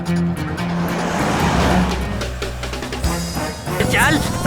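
Movie car chase with a car engine roaring and accelerating away, a loud continuous rumble with squealing tires near the end, set against dramatic music and effects.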